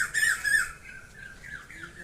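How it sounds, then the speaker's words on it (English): A great egret by the Hiran river gives two harsh, close squawks in quick succession, then falls quiet against faint background noise. "He is searching for the food. Great egret,"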